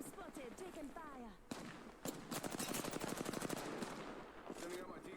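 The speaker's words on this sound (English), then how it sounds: "I'm spotted, taking fire." Rapid video-game gunfire strikes the player in a battle-royale match, a dense burst of automatic shots crackling close and loud for several seconds, with someone talking over the opening and closing moments.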